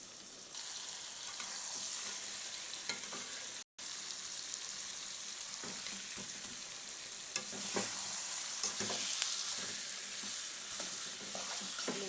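Eggplant pieces fry in oil under constant stirring, a soft, even crackling sizzle with occasional scraping strokes, fairly quiet and close, with no one talking.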